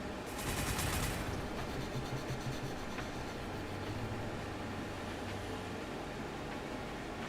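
Rapid rattling volleys of weapons fire from units in Warhammer 40,000 Gladius, a dense continuous fusillade with bright crackling bursts early on over a steady low rumble, fairly quiet throughout.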